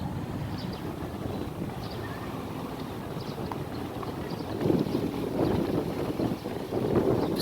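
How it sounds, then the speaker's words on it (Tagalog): Steady wind roars and buffets a microphone outdoors in Rizal Park, Manila, in the afternoon, a broad rushing noise that swells louder partway through, with faint clattering underneath. "So medyo mahangin ngayon sa hapon na to dito sa Manila."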